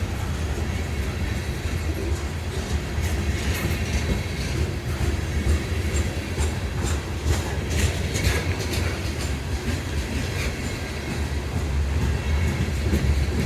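Freight train with a mid-train DPU locomotive rolls past at close range near White Sulphur Springs, West Virginia, producing continuous loud rumble and rhythmic clickety-clack of wheels over rail joints, with occasional metallic squeal.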